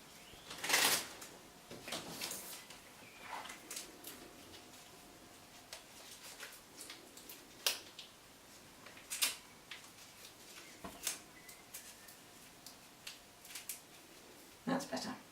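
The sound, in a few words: masking tape being put over the end of a willow stick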